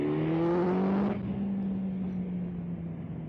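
A litre (1000cc) motorbike accelerates hard in A mode, its engine note climbing loudly with rising whine, then easing into a steady lower drone as it settles; no speech.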